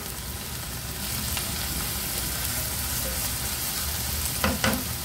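Chicken sotanghon guisado sautéing in a pan, a steady broad sizzle and frying hiss throughout with a couple of brief clinks of a utensil near the end.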